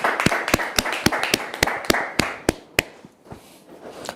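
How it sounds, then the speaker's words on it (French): A television studio audience applauds in a slow, steady rhythm of loud, distinct claps that grow sparser and quieter toward the end. "tous ceux qui sont sur le plateau ont applaudi pour vous dire qu'on vous aime très fort"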